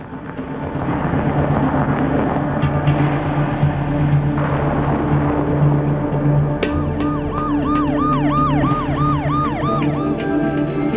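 An ambulance siren in a crime drama scene wails in repeated rising and falling sweeps, loud and close over a steady dense background of traffic rumble.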